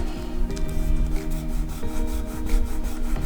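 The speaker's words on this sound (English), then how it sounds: "Just gonna wipe away any of the excess that's squeezed out" Excess silicone glue is rubbed off a paper pocket in a trifold card, giving continuous close scuffing and rubbing strokes over a low background hum.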